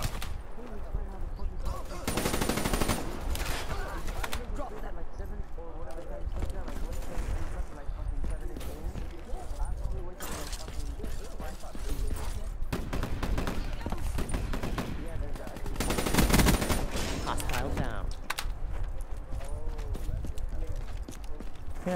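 Gunfire from a specialist weapon in the Black Ops 3 beta, with the HVK rifle, sounding as dense rapid bursts of shots that swell loudly around a few moments, with a voice talking throughout.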